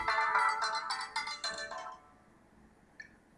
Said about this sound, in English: my phone just went off, excuse me